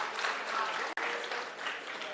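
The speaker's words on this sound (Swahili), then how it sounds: "simpigie makofi treasury team yote" Applause from a crowd at an NSBF committee and treasury team gathering in Eldoret, held steady and dense for about two seconds with one brief drop near the middle.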